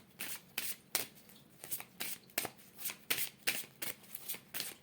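Tarot cards are shuffled by hand at close range in quick, rhythmic riffling bursts, about a dozen crisp flutters in under five seconds, with no voices.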